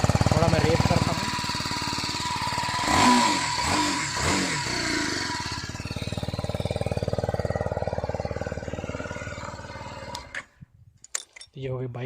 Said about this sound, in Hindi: थोड़ा मैं रेस करता हूँ।